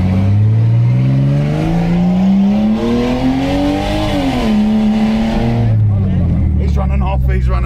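A car passes on a street in Alice Springs, its engine tone rising and then falling as it goes by, loud and close and lasting several seconds.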